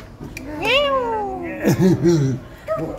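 A drawn-out meow rises and then falls, followed by shorter wavering cries, with voices talking nearby.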